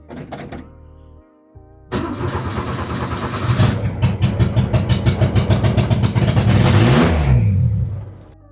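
A car engine, started for the first time in six years, cranks briefly, then fires up loudly and runs with a rough, rhythmic idle before cutting off near the end.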